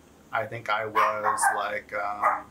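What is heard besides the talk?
dog barking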